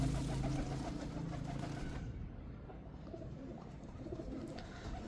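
Pigeons coo softly and repeatedly over a constant low outdoor rumble, the calls fading somewhat partway through.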